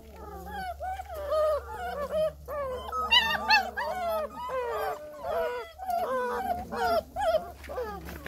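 Five-week-old puppies whimper and howl in a continuous chorus of high, wavering cries, close and fairly loud, with overlapping yelps rising and falling across the whole stretch and no talk.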